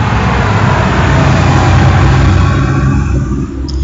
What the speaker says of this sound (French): j'ai plein de camions qui passent